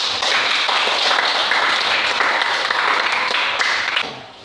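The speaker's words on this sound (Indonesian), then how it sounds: "silakan tepuk tangan dulu untuk kelompok 4" A class claps for a student group after a presentation at a university, a loud, dense burst of applause that holds steady for several seconds, then tapers off at the end.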